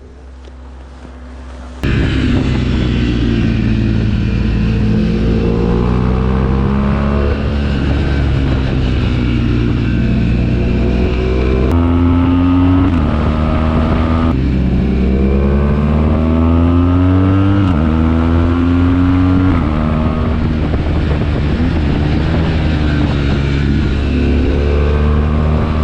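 A 208-horsepower roadster motorcycle accelerates hard and loud, its engine note rising through the gears with shifts between sustained revving pulls.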